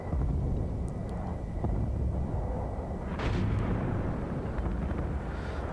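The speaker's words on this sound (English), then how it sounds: "they popped a mortar on us here" A mortar strike lands in the shooter game Battlefield Bad Company 2 on the Atacama Desert map, a heavy rumbling blast with a sharp burst midway over continuous loud battle noise.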